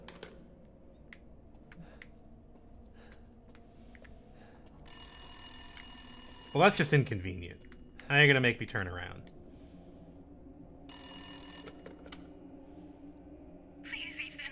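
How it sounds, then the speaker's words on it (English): A telephone rings in a horror video game, two bursts of bright electronic ringing set apart by louder jangling sounds. Someone talks over the scene between the rings. "Answer your telephone."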